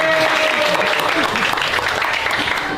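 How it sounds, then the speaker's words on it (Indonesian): High school students in a classroom clap together in loud, dense, continuous applause that fills the room. "Tepuk tangannya boleh."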